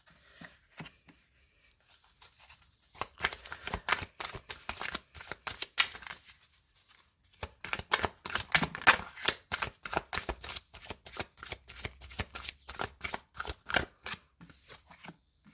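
Tarot cards being shuffled for a reading, rapid crisp riffling and slapping in two long bursts with a brief pause between, close and clear with no voices.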